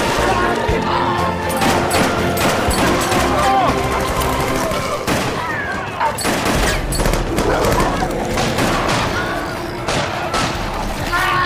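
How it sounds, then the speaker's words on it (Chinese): Movie soldiers fire back at attacking mutant pigs in a dark, narrow pipe, with dense bursts of rapid gunfire filling the whole stretch. The shots are loud and continuous, mixed with booms and animal squeals. "士兵们见状也开枪反击"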